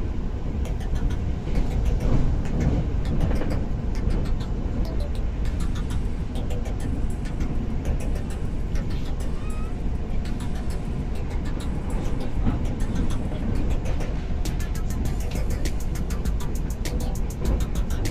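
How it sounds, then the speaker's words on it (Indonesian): Malioboro Express passenger train running on single-track rails between Purwokerto, Jogja and Malang at about 90 km per hour, giving a steady, loud rumble with continuous rattling and clatter throughout, no talking. "kereta api Malioboro Express 154F ini belok kanan menuju jalur Kantong ke Kediri, Malang"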